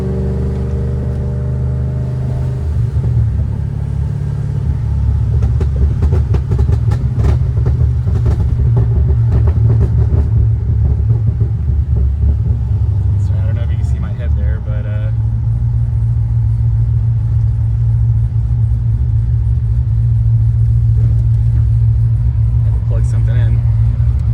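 A loud supercharged Pontiac GTO engine running on E85 rumbles deeply through a Magnaflow exhaust with an X-pipe, revving and surging at times before settling into a steady, throaty idle.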